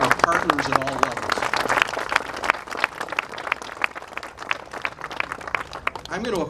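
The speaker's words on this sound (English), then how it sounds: "Let's give a round of applause to our partners at all levels." Applause from a large dispersed outdoor crowd at a public event, scattered claps rising and thinning over several seconds, with voices heard early and a brief call near the end.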